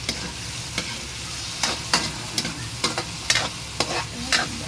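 Tomatoes sauté in a hot pan with a steady sizzle, broken by repeated scraping strokes of a utensil stirring at an irregular rhythm, close and moderately loud, with no voices.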